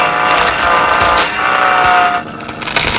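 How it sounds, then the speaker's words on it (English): A loud, steady power-tool roar of a chainsaw cutting trees in the video game Sons of the Forest, dense and continuous with slight shifts in pitch, no voices. "This is when I got a chainsaw with me."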